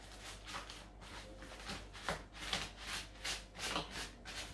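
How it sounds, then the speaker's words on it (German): Store-bought puff pastry rolled out with a rolling pin for a ham and cheese strudel, giving a steady series of soft rubbing, scraping strokes in a repeating back-and-forth rhythm, close and fairly quiet with no talk. "Wir fangen gleich einmal mit dem Blätterteig an, den ich schon gekauft habe. Den rolle ich aus."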